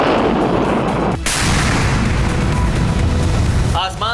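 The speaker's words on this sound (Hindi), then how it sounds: "तोपों से दुश्मन पर ताबड़तोड़ हमला।" Artillery cannons fire on enemy positions in the Armenia–Azerbaijan war: a loud sustained rumble, then a sharp break and another heavy blast, with a brief burst of voice near the end.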